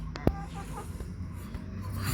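A rooster at a bird shop gives a brief loud cluck near the start, over a steady hum of background noise and faint voices.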